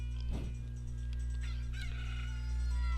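A rooster crows in the video game The Legend of Zelda: Ocarina of Time, a brief cock-a-doodle-doo over a steady low background hum and game music.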